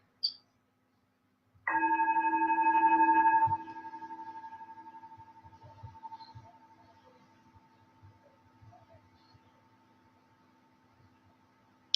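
A singing bowl is struck once and rings out clearly, a pure sustained tone with overtones that holds strongly for a couple of seconds, then slowly fades into a long, soft decay with faint background stirrings.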